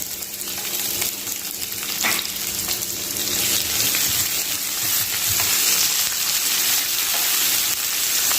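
Onion and garlic sauté in a hot pan, giving a steady, loud sizzle with occasional stirring scrapes and no voices.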